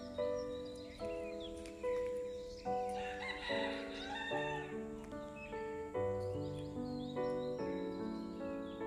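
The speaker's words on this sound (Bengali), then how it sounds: "চারিদিকে পাখির ডাক।" A rooster crows several times from the hillside around a resort, with other birds calling around it, all heard on a quiet morning road.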